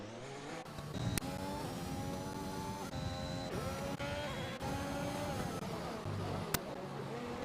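F1 2021 video game race cars in a multiplayer race, a steady continuous engine whine with shifting pitch as cars rev and change gear, loud and close throughout with a couple of brief sharp clicks.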